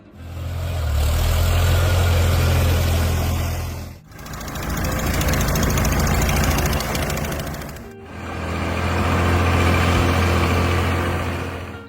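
An Allis-Chalmers D17 tractor engine runs steadily, a loud, close, low rumbling idle in three sustained stretches with brief breaks between them.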